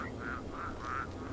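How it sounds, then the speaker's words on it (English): Ducks quack at Lover's Lake in the video game The Secret World, a steady string of about four nasal calls spaced evenly over a low background hum, with no talking. "They are still making quacking noises."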